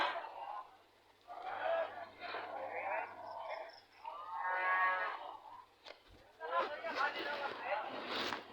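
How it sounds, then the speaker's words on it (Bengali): Cattle at the Ichhapura cattle market give several drawn-out lowing moos, close and moderately loud, with a low engine-like hum beneath and people talking nearby. "এই গরুটি খুব বড়, এটা সুন্দর একটা গরু।"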